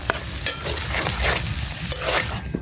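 Spice paste with salt, turmeric and chilli powder being sautéed for karamcha pickle in a pan over a wood-fired stove, with steady stirring scrapes and a continuous close sizzle throughout.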